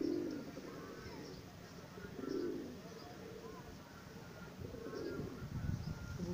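A pigeon coos several times in soft, low, throaty bursts spaced a couple of seconds apart, with faint chirps and background noise.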